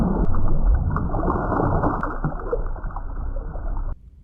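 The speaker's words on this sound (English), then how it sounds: "When you completely submerge your head like that, the water diffuses the sound waves, causing them to be muffled and often inaudible" Dull, heavily muffled sound as heard with the head fully submerged underwater: a continuous murky rumble with soft gurgles that stops abruptly near the end.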